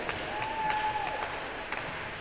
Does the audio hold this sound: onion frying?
no